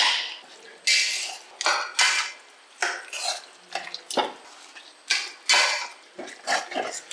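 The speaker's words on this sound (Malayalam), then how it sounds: "ഇനി നല്ലപോലെ ഇത് മിക്സ് ചെയ്യണം" Kappa biriyani of tapioca being stirred and mixed in a pot over a medium flame, with repeated scraping and clattering of a spoon against the pot in uneven bursts, close and fairly loud, with no talking.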